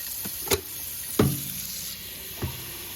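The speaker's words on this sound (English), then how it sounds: "we'll put our first fill of water into the pitcher" Tap water pours into a Brita filter pitcher as a steady, close hiss, broken by a few sharp clunks and knocks against the plastic.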